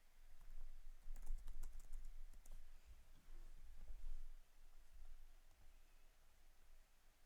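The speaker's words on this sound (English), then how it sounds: "And I see him typing." Soft, rapid keyboard typing in irregular bursts, fairly quiet, over a low steady background hum.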